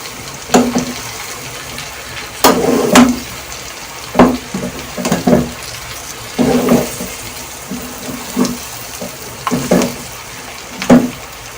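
Kachnar buds and minced meat frying in a pan, a close, steady sizzle broken by frequent loud scraping stirs and wet clatters at an irregular rhythm, with no voices.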